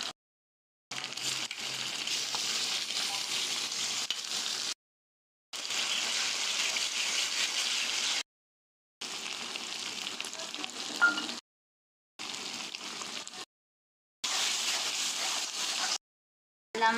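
Spice paste frying in hot oil for Maharashtrian patodi curry, a loud, steady crackling sizzle in repeated bursts broken by brief silences.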